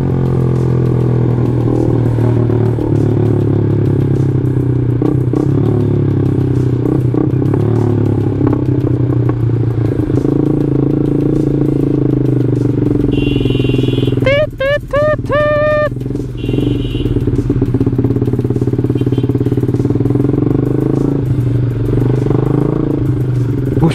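A Yamaha Jupiter MX motorcycle engine drones steadily while riding, with road noise and wind throughout and a brief rattle of clatter partway through.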